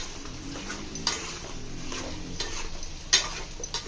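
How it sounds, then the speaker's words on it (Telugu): Chicken pieces coated with turmeric are stirred in a pot for a Telugu-style chicken curry, with close, steady scraping and soft clinks of a spoon against the metal and a few sharper knocks. "పసుపు యాడ్ చేసుకొని బాగా కలుపుకోవాలి ముక్కలకు పట్టేలాగా"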